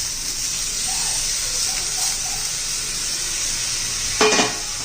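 Cluster beans (guar) frying with toasted coconut in a pan, a steady soft sizzle and hiss with a brief scraping stir near the end, no voices.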